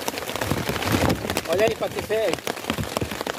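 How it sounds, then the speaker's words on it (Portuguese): Steady rain falls on a forest campsite in the Amazon, a constant hiss heard throughout under someone talking. "a chuva é constante"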